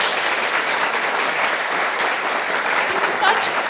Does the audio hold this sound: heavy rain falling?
no